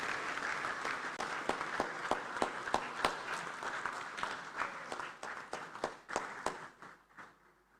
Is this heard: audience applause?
yes